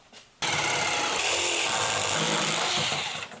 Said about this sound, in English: Now it's time to drill the holes for the electrical wire.